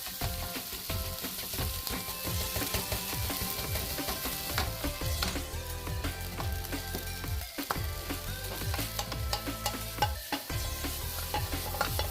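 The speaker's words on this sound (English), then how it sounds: "After stir frying and mixing the fried rice for a bit" Crab fried rice being stir-fried and tossed in a wok, with continuous sizzling and repeated scraping and clanking of the spatula against the metal, loud and close with no talking.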